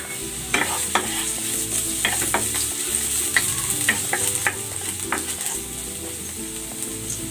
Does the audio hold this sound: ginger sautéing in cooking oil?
yes